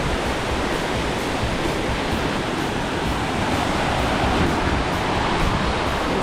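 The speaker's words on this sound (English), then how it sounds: "You can actually feel the wind pick up as we approach the waterfall" A waterfall in the Columbia River Gorge roars nearby as a dense, constant broadband rush, with some wind mixed in and no speech.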